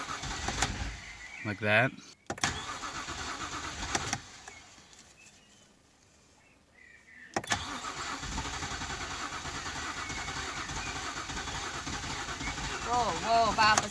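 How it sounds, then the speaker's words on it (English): A rebuilt BMW E90 N52B25 engine cranks over in repeated bursts, loud and close, with a quiet gap between cranking spells and people talking over it. "maybe I'll just crank it a few times"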